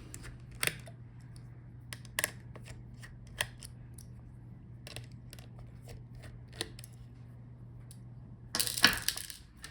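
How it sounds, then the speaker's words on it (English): Screws being removed from the heatsink of an Asus Zenbook Q415MA laptop during a teardown, heard as a few sparse, close, sharp metallic clicks and scrapes over a quiet low hum, ending in a louder burst of handling rattle. "Unscrew the screws."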